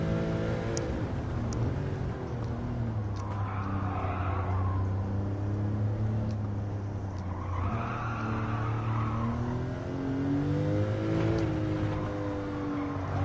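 Racing car engine in Gran Turismo 7 online daily races, an all-wheel-drive car revving steadily with rising and falling harmonics through tight turns, with tire squeal and skidding swells, loud and continuous with no talk.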